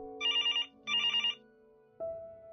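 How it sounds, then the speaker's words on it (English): A phone rings in the Cyber Awareness Challenge video game with two clean electronic trill bursts, each about half a second long, followed by a steady tone, close and clear with no talking. "Answer the phone."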